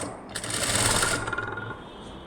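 A sewing machine stitches along the edge of an embroidered blouse neckline with a fast, steady mechanical whir that slows and stops near the end, heard close with no talk.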